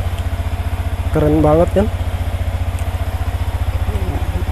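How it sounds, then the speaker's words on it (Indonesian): Yamaha Vixion motorcycle, started without a key, idles with a steady rapid low putter throughout, while a person speaks briefly over it. "Ini sambil saya panasin aja motornya sekalian."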